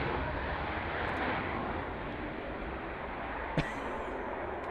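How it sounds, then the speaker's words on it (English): A fixed-wing aircraft powers up on the runway for a recce flight, its broad engine roar steady and continuous with one brief sharp transient near the end. "What a takeoff."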